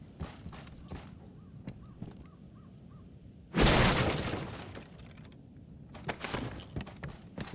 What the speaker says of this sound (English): Smashed his boxes and got some large nuts